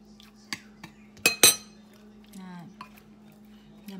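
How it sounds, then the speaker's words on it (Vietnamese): Fish being tossed with a fish sauce marinade in a bowl gives scattered clinks and sharp taps of a utensil against the dish over a low hum, with a brief voice in between. "Giờ mình sẽ trộn lên ha."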